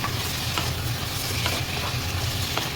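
Sotanghon glass noodles stir-fried in a pan with chicken breast and plenty of other ingredients give a continuous close sizzle, broken by soft scraping as the mixture is tossed and stirred.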